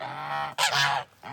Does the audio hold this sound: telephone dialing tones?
no